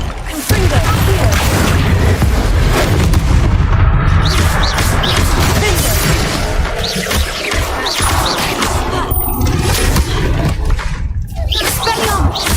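Confringo blasting spell explosions in the Hogwarts Legacy video game, a dense run of booming crashes and smashes over a loud continuous battle din, with voices mixed in.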